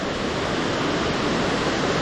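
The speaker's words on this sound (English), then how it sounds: "these waterfalls look great, but plenty of rain, I'm sure this cascade would be incredible" Anna Ruby Falls, a waterfall cascade on a forest hike during drought, gives a steady, dense roar of falling water, close and unbroken, with no voices.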